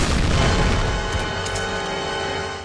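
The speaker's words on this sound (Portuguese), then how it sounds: "O cara tancou um tiro de bazuca" A bazooka shot explodes in the video game Saints Row, a loud, heavy boom with a deep rumbling blast that decays slowly over a couple of seconds.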